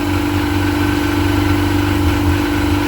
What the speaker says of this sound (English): We should be idling at around 1450 RPM.